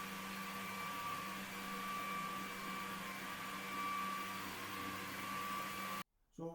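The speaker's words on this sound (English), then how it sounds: "So if you hit the trigger, that's your water and your brush running." A Eureka E36C floor scrubber dryer runs with its brush, water and vacuum on, giving a steady, loud mechanical hum and whine that cuts off abruptly near the end.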